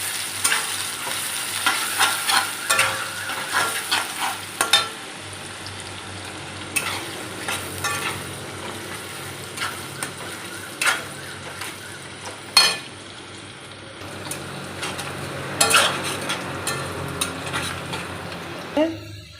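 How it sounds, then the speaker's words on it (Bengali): Sliced onions sizzle steadily in hot oil in a pan while being stirred, with repeated spatula scrapes and clacks against the metal over a continuous frying hiss, heard up close with no talking. "পেঁয়াজগুলো তেলের মধ্যে দেব একটু নেড়ে করে একটু লাল মতো হয়ে আসলে নামিয়ে নেওয়া"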